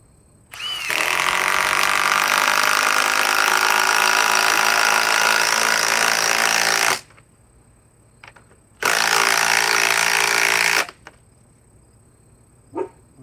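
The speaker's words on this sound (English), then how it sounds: "you can tell it's an impact wrench" An impact wrench runs in two loud, sustained bursts, a long one of about six seconds and a shorter one of two seconds, each with a steady buzzing rattle, separated by quiet.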